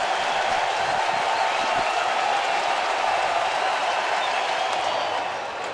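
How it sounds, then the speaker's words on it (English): Baseball stadium crowd of Cardinals fans roaring and cheering during a playoff game, a dense sustained wall of loud cheering and applause throughout. "Cardinal crowd had been quiet. They're up and roaring now."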